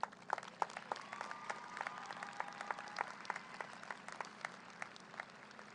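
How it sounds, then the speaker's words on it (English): Scattered applause from a crowd at a high school graduation, sounding distant and fairly faint, with sharp individual claps over a low background hum. "Let's give them one last round of applause."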